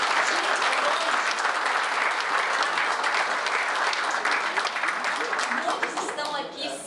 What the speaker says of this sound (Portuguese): uma salva de palmas a esses amigos que vieram